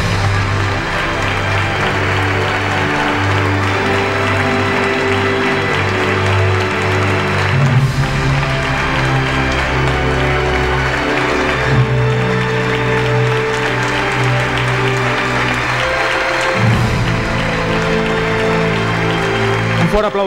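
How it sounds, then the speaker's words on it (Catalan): Steady applause fills a hall at the Ciutat d'Igualada 2003 award ceremony as the prize winner is honoured, sustained and fairly loud for about twenty seconds, layered with music or voices underneath. "Un fort aplaudiment i gràcies per ser aquí."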